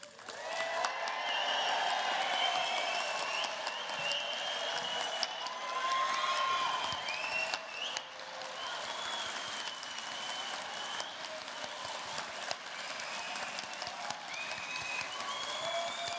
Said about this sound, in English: I want to hear cheers, whoops.